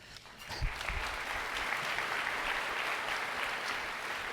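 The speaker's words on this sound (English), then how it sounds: "I knew somebody would applaud when I said I was leaving." Audience applause at a school district State of the Schools address rises after a brief pause and holds as a steady, fairly faint wash of many hands from a distant crowd.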